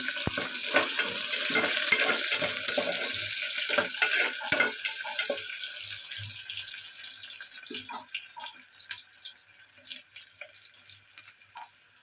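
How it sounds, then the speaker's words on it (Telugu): Chopped onions and curry leaves fry in a pan for a tomato dal, a steady bright sizzle with occasional stirring scrapes, louder at first and easing slightly later, with no talking. "ఉల్లిపాయలు ఇలా ఫ్రై అవుతున్నాయి కదండి"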